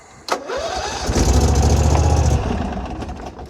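Engine on a machine at an equipment auction cranks over with the choke on and catches, a sharp click followed by a loud rhythmic chugging burst for about a second, then settling into a rough idle, heard close.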